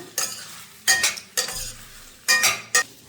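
Fried chicken pieces stirred into sauce in a pan for chilli chicken Manchurian, with several bursts of spatula scraping and clinking against the metal over a soft sizzle, close and without talk.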